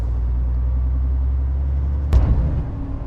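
Heavy goods vehicle engine rumbling steadily on a road while pulling out of a roundabout, deep low drone throughout with a brief louder surge near the end as power increases.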